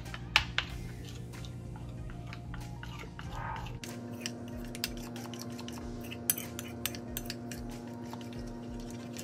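Chilli chicken with ginger, onion and green pepper is stirred in a pan, giving intermittent clinks and scrapes of a utensil over a low steady hum.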